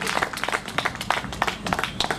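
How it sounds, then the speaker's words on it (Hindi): Audience applause for a poet at a Hindi kavi sammelan, a dense patter of many hands clapping steadily for a couple of seconds at moderate level. "एक बार जोरदार तालियों से बताइए आप संजीव मुकेश जी"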